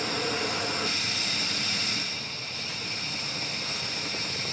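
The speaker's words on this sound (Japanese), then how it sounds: "お湯を沸かして" Water heating in a kettle on a wood stove inside a winter camping tent, giving a steady, fairly loud hiss that eases slightly partway through, with no talk.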